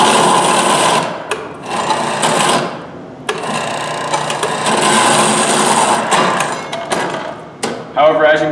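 Metal cutting machine in a robotics shop running with cutting fluid, a loud, close, steady buzzing whine with brief pauses, made for cutting steel, aluminum and titanium.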